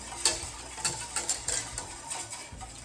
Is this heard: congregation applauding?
no